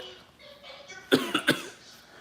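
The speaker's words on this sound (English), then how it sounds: "Now you got me coughing." Three quick coughs in succession, close and fairly loud, after a stretch of quiet background.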